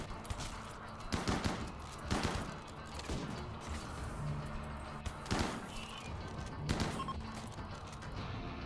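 Gunfire from a RimWorld colony firefight: scattered bursts of shots crack out at irregular intervals across the stretch, moderately quiet against a steady background hum.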